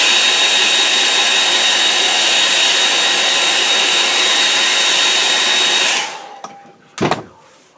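Hair dryer drying a watercolour painting, a loud, steady close whooshing roar for about six seconds, then switched off and winding down, followed by a brief knock.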